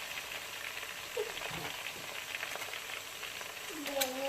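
Ground garlic fries in a pan for chicken pulao with a soft continuous sizzle, a few clinks and stirring sounds, and a brief murmur of voices.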